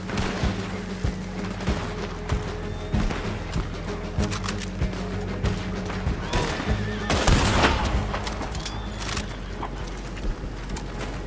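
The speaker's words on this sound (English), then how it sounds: "Gatling gun, Devil Hunter." A Gatling gun in Red Dead Online fires in rapid, loud, sustained bursts with booming impacts throughout, and a strong surge around the middle.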